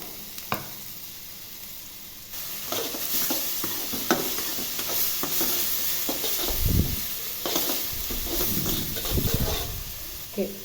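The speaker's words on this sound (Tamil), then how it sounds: "இப்போ அதில் அப்படியே நம்ம நறுக்கி வச்ச வெங்காயத்தை வந்து" Chopped onions sauté in hot oil in a pan for a fish cutlet, giving a continuous close sizzle broken by clattering stirs of a utensil against the pan.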